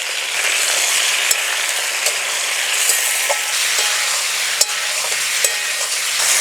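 Ridge gourd and previously fried vegetables are stirred in a hot pan, giving a loud, even sizzle with occasional sharp clicks of the spoon against the pan.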